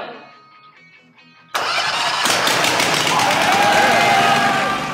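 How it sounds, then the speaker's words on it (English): A small NorthStar E740 engine on a rat rod go-kart cranks and fires up with a sudden loud roar, then runs rough and raspy through straight pipes with the muffler cut off, close by. "So when they started it up with the straight pipes and the flames come out of the exhaust"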